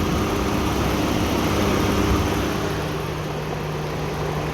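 A hot car engine idles steadily with its radiator cooling fan running during a cooling-system bleed, giving a constant, even mechanical hum and whoosh without pauses or voices.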